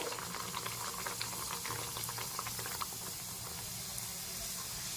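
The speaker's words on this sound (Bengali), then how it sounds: "গরম হয়ে গেছে এবার আমি কচুরিগুলোকে ভেজে নেব" Green pea kachoris deep-frying in hot oil in a kadai, a steady bubbling hiss with faint scattered crackles and clicks, constant and close with no talking.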